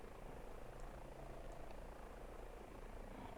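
Airbus H145 helicopter in a flight simulator game, a steady, continuous engine and rotor drone at moderate level, unbroken and without talk.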